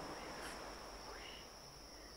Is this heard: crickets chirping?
yes